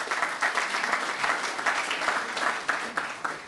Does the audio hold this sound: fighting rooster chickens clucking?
no